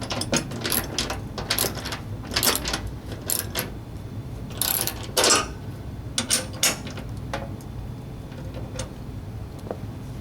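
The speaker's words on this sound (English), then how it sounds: "Then hold the shoe at your selected height and completely tighten the bolts." Close, quiet metallic ratcheting and clicking as bolts on the skid shoes of an Ariens Deluxe 28 two-stage snow blower are tightened, in short irregular bursts with brief clanks.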